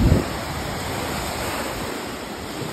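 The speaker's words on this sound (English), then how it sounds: "back up out of the waves here." Lake Michigan waves wash steadily onto a snowy shoreline, a continuous broadband rush with wind noise on the microphone and a louder surge at the start, no voices present.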